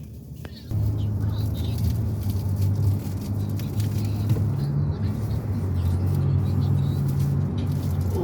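Cars idle and creep along in an evening traffic jam in the USA, a steady low engine rumble close by with a faint passing swell, while someone talks over it in Thai.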